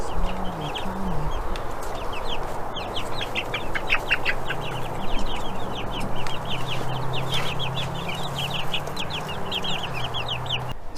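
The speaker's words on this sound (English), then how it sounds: "the baby chicks seem to be doing fine" Baby chicks peep continuously in a loud, dense chorus, with lower clucking and chatter from the flock mixed in throughout. No one speaks.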